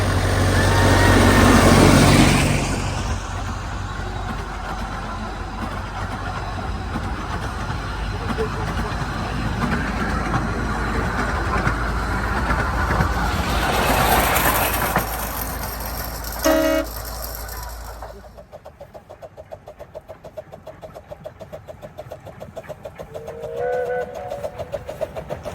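Heritage narrow-gauge steam locomotive on the Ravenglass and Eskdale Railway running out of service during a gala, heard as a loud continuous rumble and hiss passing close, with a short whistle toot, then fading to quieter background.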